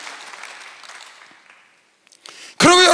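A church congregation applauding during a Sunday worship service: dense crowd clapping that fades out, a brief pause, then a loud voice breaks in abruptly.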